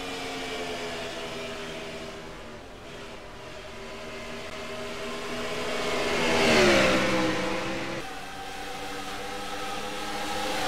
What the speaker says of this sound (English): a lot of cars are slapping the wall and now coming off turn two